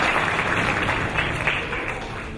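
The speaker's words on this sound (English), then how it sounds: "So let's give a round of applause to Abby George for the hard work of the" An audience applauds at a ceremony honouring the Mar Thoma Metropolitan, a dense, steady wash of many hands clapping together that fades slightly toward the end.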